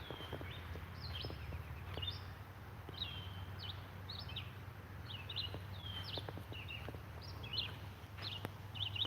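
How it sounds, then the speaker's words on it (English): Small birds singing outdoors near a county fairground, short chirps and whistled phrases repeating every second or so at a moderate distance over a low steady hum, with a few faint knocks. "Hear the birds singing."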